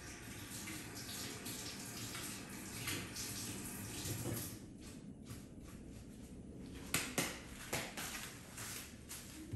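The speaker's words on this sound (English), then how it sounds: "I'm gonna rinse it off real quick so it doesn't dry on there." Running tap water rinses a mixing container after acrylic pour paint has been measured in it, a steady close splashing rush with a few louder clunks of the container toward the end; no talking.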